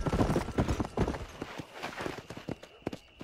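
Horse hooves galloping in the Xbox 360 game Red Dead Redemption, a steady, quick clip-clop rhythm close up, with a low rumbling bed beneath it.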